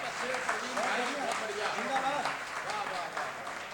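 An audience at a Hindi poetry recitation applauds, a dense, steady patter of many hands clapping at moderate distance, while someone speaks over it.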